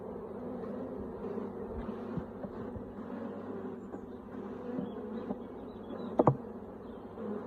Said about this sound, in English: So, new bees.